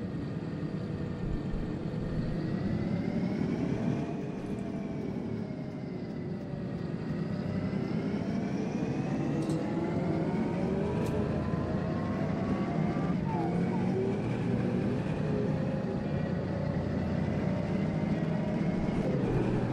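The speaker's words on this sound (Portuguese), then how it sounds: "o chiado, ó, do som do motor do carro" Engine hiss from a bus in the OMSI 2 bus simulator video game, a steady, loud drone with a hissing layer and tonal whine that shifts slightly in pitch, continuous and near.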